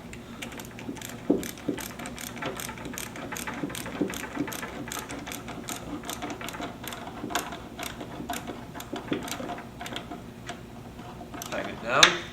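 Rapid ratcheting clicks from a screwdriver or nut driver tightening a metal hose clamp onto a rubber boot, a steady series of small ticks that runs throughout with a slightly louder burst at the end.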